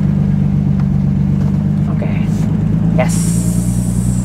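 Car engine revving hard during drifting practice, a loud steady low rumble with surging throttle throughout, while an instructor speaks over it.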